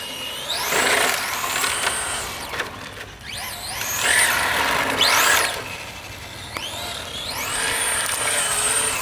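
Team Associated Apex 2 Datsun 620 RC truck running on a 3S battery out on the street: a high electric motor whine that repeatedly swoops up and down in pitch as it accelerates and slows, close and steady, with no talking.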